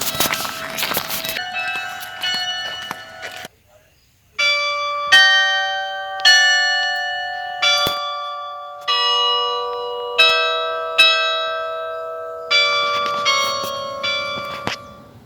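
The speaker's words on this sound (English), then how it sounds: "somewhat nice sounding bells" Church bells ring out in a slow, uneven sequence of bright tolls, each ringing on and fading, outdoors near a Nova Scotia island harbor; after a short gap near the start, the strokes continue clear and fairly close.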